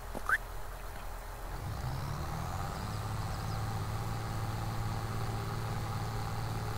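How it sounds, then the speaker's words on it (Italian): A tractor engine in Farming Simulator 22 works under load, a steady low droning hum that rises after a brief knock near the start, faint and continuous with no talking. "Ah, c'è il trattore che fa fatica, va, sai?"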